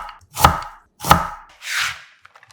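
A knife chops carrots into thin julienne strips about 0.2 cm thick, giving three crisp, close cutting strokes on a board with no talk.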